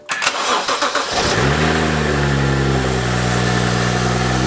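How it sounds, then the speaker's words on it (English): A BMW N55 335i, a turbocharged car with a Stage 2 tune, cranks briefly, catches and settles into a loud, steady near idle with a slight rev as it fires. "We're just gonna take the car out for a fun little drive and see how she does."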